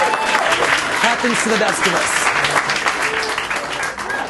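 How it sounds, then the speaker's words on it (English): An audience bursts into steady, dense applause for a chef's stacked shot-glass trick, with someone talking over the clapping. "Thank you for that applaud."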